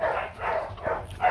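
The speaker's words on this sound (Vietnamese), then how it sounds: "Sủa uy lực phết đấy." A short-tailed Vietnamese Bac Ha long-haired dog barks outdoors on grass, three or four moderately loud barks in an uneven rhythm at mid distance, with no talk over them.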